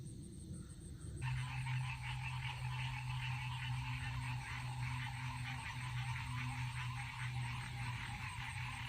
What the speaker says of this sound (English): Listen at all the frogs serenading you.